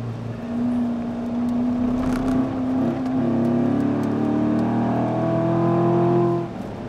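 A Corvette C7 Stingray's engine and exhaust drone loudly on a racetrack at the corkscrew, a steady low growl that rises in pitch as it accelerates, then cuts off abruptly near the end.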